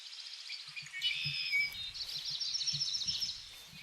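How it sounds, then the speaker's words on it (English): Birds sing and chirp in the humid jungle of the Bor Tiger Reserve, bright overlapping calls and trills at moderate distance over low scattered rustling. "Bird sounds fill my ears."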